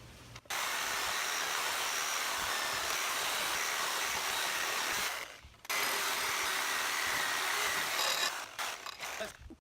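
A cheap $30 reciprocating saw with a plastic-bodied build rasps steadily as it cuts, running in one long burst, pausing briefly, then starting again. The harsh noise stays loud and close.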